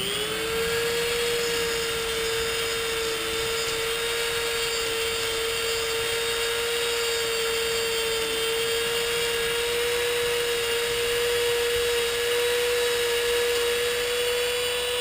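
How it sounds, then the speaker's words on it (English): A small rotary grinder steadily grinds down metal parts for a homemade Alabama rig fishing lure, giving a continuous high whine at constant pitch throughout, close and fairly loud, with no talk. "all we're going to do is kind of grind this little baby down"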